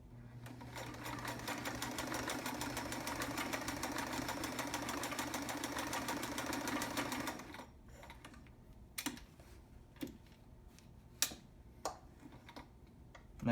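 A vintage Sears Kenmore 158.13200 heavy-duty sewing machine, freshly overhauled, runs a blind stitch in a fast, even mechanical chatter for about seven seconds, then stops, leaving a few scattered clicks and taps.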